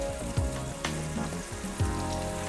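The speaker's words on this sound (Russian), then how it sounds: "И обжариваем со всех сторон очень быстро" Beef liver pieces fry quickly in a pan over moderate heat, with a continuous close sizzle, a few brief spatters and a faint tonal background hum.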